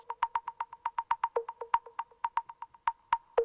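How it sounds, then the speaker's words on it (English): Short percussive hits pass through a spectral time delay effect with reverb, a steady rapid run of about twenty bright, pinging taps like a ball bouncing around an echoing room, alone with no voices. "This kind of sounds like a ping pong ball has been just bouncing around a room with a lot of reverb."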